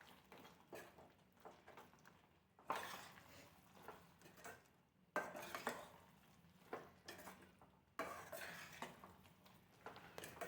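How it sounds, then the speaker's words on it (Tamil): Lemon pickle being stirred and sautéed in oil in a pan, with sparse clinks and scrapes of a spoon against metal coming in short separated bursts, fairly quiet and with no voices. "இதை அப்படியே கொஞ்சம் சிம்மில் வச்சு நல்லா வதக்கினோம்னாக்கா எண்ணெய் பிரிஞ்சு வரும்"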